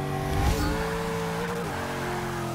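An Ultima GTR 720, a mid-engine car in Forza 6, launches hard. A loud engine roar surges with a sharp tire chirp early on, then a steady high-revving drone follows, with no talk.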